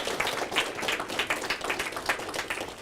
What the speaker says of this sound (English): A little applause is nice too.